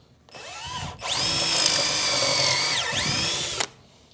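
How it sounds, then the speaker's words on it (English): A drill driver bores a pocket hole into plywood with one loud, close whir, spinning up, dipping briefly under load, then running on before stopping, while no one speaks. "Then I'm going to drill both these holes."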